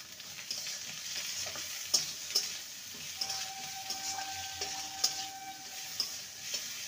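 Ginger and garlic paste fries quietly in a pan, giving a gentle hiss and sizzle while a spoon stirs with light, irregular taps and scrapes against the metal.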